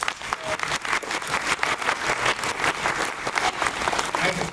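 Audience at an interfaith event applauding, steady dense clapping from a full room throughout, with some voices mixed in.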